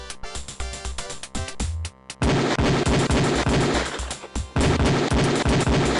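Beretta pistol fire at a police shooting range in the Police Quest 4 video game, loud and close, starting as spaced shots and turning into sustained rapid volleys with a brief pause between bursts, no speech.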